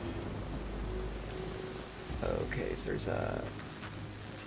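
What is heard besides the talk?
rain in the video game Arc Raiders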